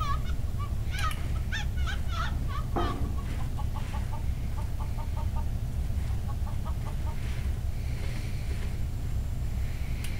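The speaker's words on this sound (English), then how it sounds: "here's the rooster I smuggled on board." A rooster crows and clucks in the video game Journey to the Moon against a steady low rumbling drone, with short repeated calls and a squawk standing out early on.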